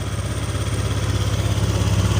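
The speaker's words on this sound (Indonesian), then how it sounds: "mesin sudah nyala." Honda Vario 125 scooter engine idling right after repair of a rough-running fault with coolant mixed into the oil, a close, loud, steady rhythmic putter with no talk.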